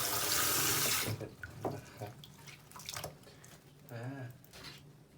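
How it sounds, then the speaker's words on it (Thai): Water runs loudly from a tap for about a second as foam is rinsed out of a hairpiece, then drops to softer trickling, splashing and dripping with brief bursts of flow. "ล้างเป็นฟองหมดนะครับ"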